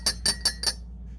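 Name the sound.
cup being touched and clinked, glass or ceramic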